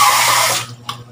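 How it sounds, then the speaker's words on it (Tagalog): Water gushes loudly from a kitchen tap while food is being cooked, a close, steady rush that stops abruptly after about half a second, followed by a single faint clink. "Kunting tubig."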